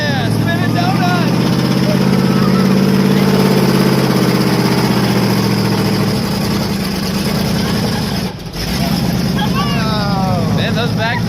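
A monster truck engine revs and drones loudly while spinning donuts in a big ring of dirt, its pitch sweeping up and down, with people's voices audible over the engine noise.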